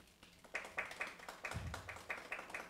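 Audience at a climate change symposium applauding, a steady patter of many hands clapping at moderate volume, sustained throughout without speech.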